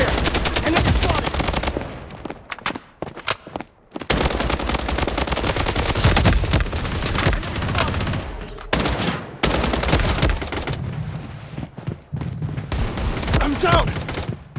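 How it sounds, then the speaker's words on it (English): Video game gunfire in a Blood Strike squad fight: dense, loud automatic bursts and overlapping shots nearly nonstop, broken by a few brief pauses, with game voice callouts mixed in. "Taking fire!"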